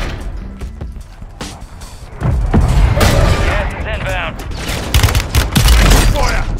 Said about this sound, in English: Y'all watch out for that mortar strike.